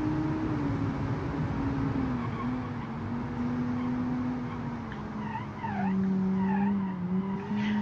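A 1947-style car oversteering in the BeamNG driving game squeals its tires in a long, continuous skid that wavers in pitch over a loud engine drone.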